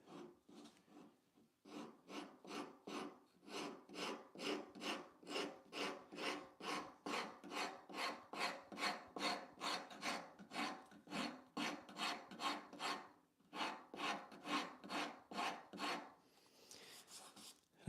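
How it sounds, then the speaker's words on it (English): A small nylon brush scrubs the teeth of a wood rasp in quick, even back-and-forth strokes: a close, rhythmic rasping that runs for most of the clip with a brief pause partway. "I just take this little nylon brush and clean out some of the teeth on the rasp here"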